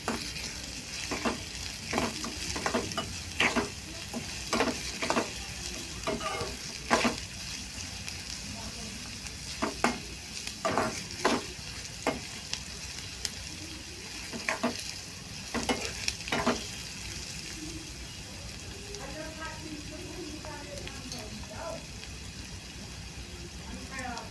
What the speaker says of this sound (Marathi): कांदा चांगला लाल होईपर्यंत परतायचा आहे